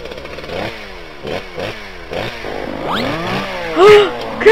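A chainsaw in the game Whack your Computer snarls in repeated revving bursts that rise and fall, with clattering hits and a sharp squeal near the end, loud and close.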